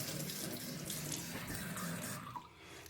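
Water runs steadily from a tap into a mixing bowl of thin pizza crust dough, a continuous close splashing stream that thins out near the end.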